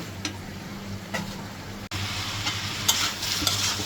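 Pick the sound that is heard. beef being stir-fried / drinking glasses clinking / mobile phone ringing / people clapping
beef being stir-fried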